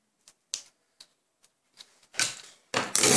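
Paper being creased and folded by hand for a paper finger puppet: a few soft, brief crinkles, then louder rustling and crumpling bursts near the end, close by with no talking.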